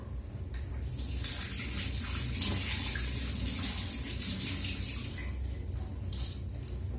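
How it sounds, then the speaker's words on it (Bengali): Water runs steadily from a tap while hands are washed at a sink, a continuous close splashing rush with a brief louder splash near the end and no talking. "হাত ধুয়ে নেব"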